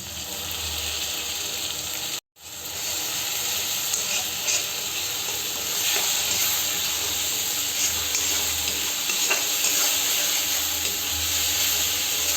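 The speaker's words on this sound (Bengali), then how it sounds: "ভালো করে ফ্রাই করে নেব" Onion, ginger, garlic and green chili paste frying in a pan for rajma masala, a steady close sizzle with faint stirring scrapes, briefly cut off near the start, no voices.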